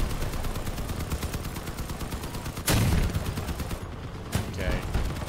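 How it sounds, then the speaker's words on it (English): Sustained automatic gunfire in the Crossout vehicle combat game, rapid and continuous, with a heavier, louder blast midway and more shots following close by. "I'm getting shot at"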